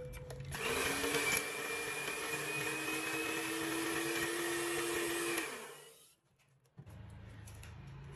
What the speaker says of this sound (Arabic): وغادي نضربو المكونات واحد شوية.